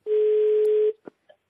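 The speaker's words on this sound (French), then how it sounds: "J'entends la sonnerie." A telephone ringing tone on a call, heard as one steady sustained tone of just under a second, followed by a couple of brief faint clicks.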